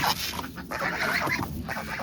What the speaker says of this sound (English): We're gonna let the geese out.